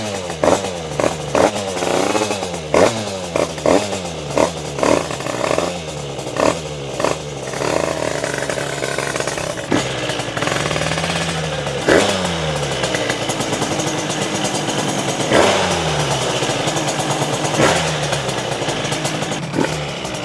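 A 100cc pit bike screams on a Shiftech dyno, first in a string of sharp repeated throttle blips, then in longer sustained high-rev pulls, loud and close with no talk.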